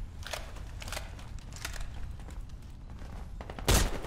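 A competitive tournament video game firefight against a sniper, with a few scattered, moderately distant gunshots followed by one loud, close shot near the end.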